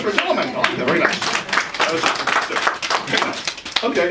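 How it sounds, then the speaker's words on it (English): Audience at a book signing breaks into a dense round of clapping that runs steadily throughout, close and fairly loud, with voices talking over it. "round of applause for a gentleman"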